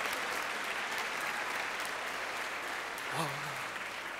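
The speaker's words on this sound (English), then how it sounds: "Round of applause for these people." Applause from an audience for volunteers at a magic and hypnosis show at an awards event, a continuous, fairly quiet crowd clapping with a brief voice rising over it near the end.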